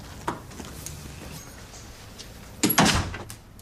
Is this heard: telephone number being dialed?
no